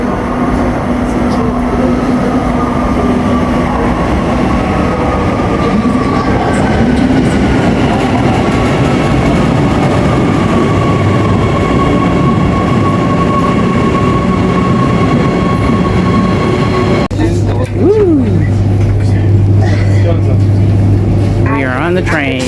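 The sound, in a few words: train arriving at station in South Africa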